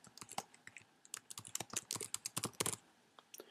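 Quick bursts of typing on a computer keyboard as a name is entered, irregular clusters of crisp key clicks close up, speeding into a dense flurry before a brief pause and one last tap.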